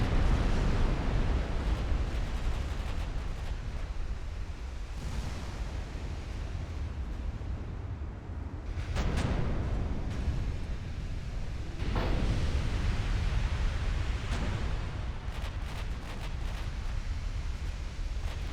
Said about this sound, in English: Musa Celebi is actually firing their 11-inch guns.